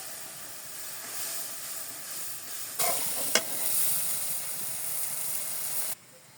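Chilies sautéing in a pan in a village kitchen, a steady broadband sizzle and hiss throughout that swells briefly in the middle with a sharp clink, then cuts off abruptly near the end.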